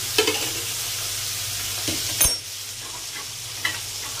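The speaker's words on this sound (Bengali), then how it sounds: "মাছটাকে একটু লাল লাল করে ভাজবো" Fish pieces fry in hot oil for a sour fish curry, a steady close sizzle with a few soft stirring scrapes and one sharp clack near the middle, no voices.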